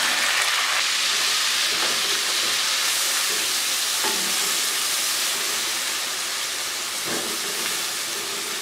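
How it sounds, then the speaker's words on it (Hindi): Coarse onion paste frying in a pan for beef kaleji gives a steady, close sizzle and hiss throughout, with a few faint stirring scrapes and no voices. "तो अब हम इसको अच्छे से भून लेंगे, प्याज को"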